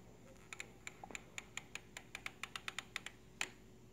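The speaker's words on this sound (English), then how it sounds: "We're gonna hear gears clicking, and then we're gonna hear a noticeably louder click." Sprinkler head gears give a run of small, crisp clicks at a fairly even pace, close and quiet, ending in one noticeably louder click after a short gap.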